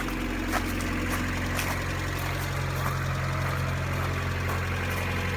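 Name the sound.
Mazda Miata engine idling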